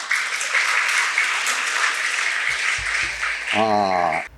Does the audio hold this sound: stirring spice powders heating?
no